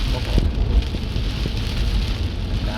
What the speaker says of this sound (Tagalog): Kasi gawa ng malakas ang ulan